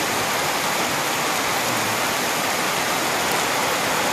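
Continuous heavy splashing of water pouring down from a roof without a gutter onto the ground nearby, a dense, steady hiss without pause.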